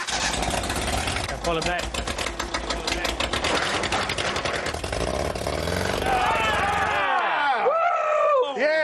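An engine in a scrapheap-built vehicle made for a sand slalom runs loudly nearby with a rough, rapid knocking chatter, then its pitch rises and falls as it revs, while people talk over it.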